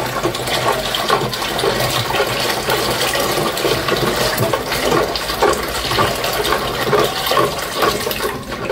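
Lukewarm water pours steadily and loudly into a container for making yogurt from powdered milk, a continuous close gushing splash that runs unbroken throughout, with no talking.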